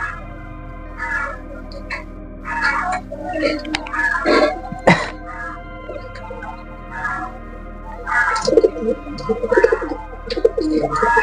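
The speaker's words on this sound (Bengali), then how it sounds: "ঘরের কবুতরের সাথে কামড়াকামড়ি করছে দেখুন ঝগড়া করছে" Pigeons squabbling in a home loft, with near coos and soft throaty calls in irregular bursts and a sharp scuffle-like knock partway through, over a steady low background hum.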